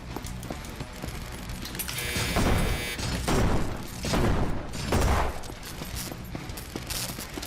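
Grenade launcher fire in a video game, a run of heavy booming blasts and thuds that swell and fade in bursts over a steady loud backdrop of game noise.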